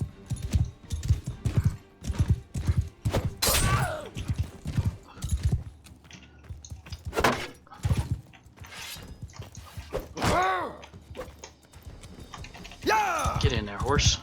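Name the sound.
horse galloping in video game Mount & Blade II Bannerlord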